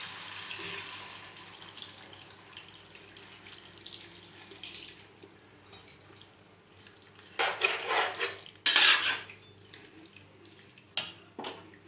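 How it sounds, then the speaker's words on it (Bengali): Water poured into a pot of jackfruit curry simmering in spice paste, with quiet kitchen hiss and then a couple of loud splashing gushes near the end. "এবার আমি দিয়ে দেবো এতে জল"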